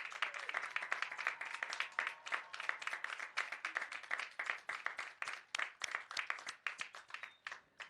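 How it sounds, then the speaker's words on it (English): Graduates applauding their families and friends at a college commencement ceremony, a lively round of many hands clapping with distinct sharp claps standing out, strong and continuous before tapering off near the end. "give them a round of applause"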